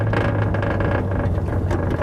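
Steady low rumble and whirring vibration from a truck, captured as a close field recording, continuous and fairly loud with no voices.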